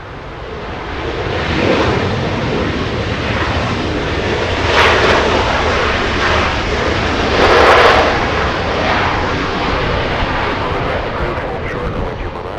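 A jet airliner takes off from Los Angeles International Airport, a broad steady roar that swells and holds throughout at moderate distance, with a radio voice talking over it.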